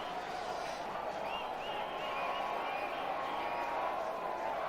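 Steady crowd murmur fills the stands at an India versus Pakistan test cricket match in 2005, a continuous distant hubbub of many voices without distinct cheers or claps.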